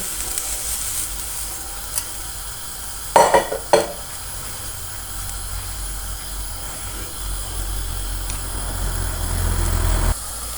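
Milk heating in a pan for milk cake gives a low steady bubbling hiss with a faint rumbling hum underneath, broken around the middle by a brief cluster of sharp clattering knocks, close by.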